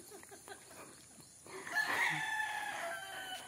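A rooster crows loudly in the middle, with chickens clucking around it and general farmyard noise from a rural farm with cattle, goats and dogs in the background.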